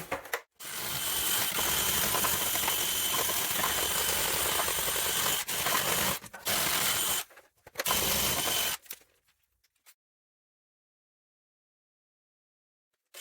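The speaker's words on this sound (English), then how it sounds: "So I'm going to start with this little wire wheel on the drill." A drill spins a wire wheel against the rusty metal wheel arch of an Aston Martin DB7, a loud harsh whirring grind that runs steadily with brief pauses before stopping into silence.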